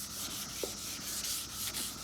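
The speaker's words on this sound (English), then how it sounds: "Do the first wet sanding pass." Wet sanding a BMW E39 540i headlight lens with 600 grit sandpaper, a steady close-up rubbing hiss with rhythmic back-and-forth strokes and no talking.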